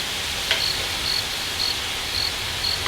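Crickets chirp in short, evenly spaced bursts, about five of them, over a steady soft hiss, with no other sound around them.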